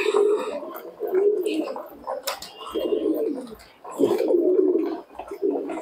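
A flock of pigeons, around a hundred kept together, coos in repeated low throaty rolls while feeding, close and fairly loud, with brief bursts of other bird noise in between.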